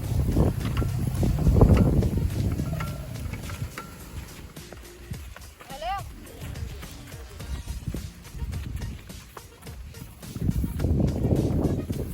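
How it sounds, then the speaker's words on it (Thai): Gusty wind blowing outdoors and buffeting the microphone in strong, uneven surges, loudest at the start and end, with scattered clattering and rustling nearby. "โอ้ลมพัดมาแล้วครับผมอากาศ อากาศดีมากเลย"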